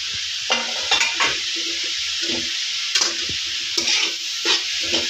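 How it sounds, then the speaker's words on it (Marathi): Cauliflower paratha filling with coriander is stirred in a hot pan, a soft continuous sizzle broken by repeated spatula scrapes and taps in an uneven rhythm, close and without talk. "व तो असा परतून घ्यायचा आहे व त्याच्यामध्ये टाकायचे आहे कोथिंबीर"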